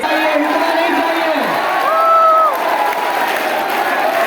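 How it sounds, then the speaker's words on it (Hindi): An audience at a foundation-day anniversary festival claps and cheers, with whoops and raised voices riding over dense, continuous applause that stays loud throughout. "तालियां रुकना नहीं चाहिए।"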